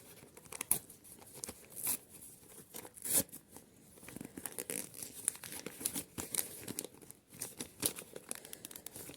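A paper surprise packet is unwrapped close up, giving quiet, uneven crinkles, rustles and small tearing snaps in irregular bursts, with no talking.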